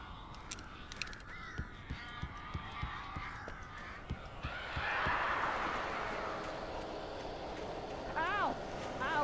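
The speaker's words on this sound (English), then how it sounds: "These birds are weird." Crows caw repeatedly inside the Alan Wake video game, with harsh calls rising over a steady ambient hum and a voice speaking in the background.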